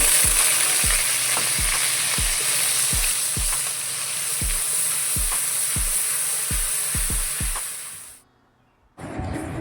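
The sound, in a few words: onion paste frying in oil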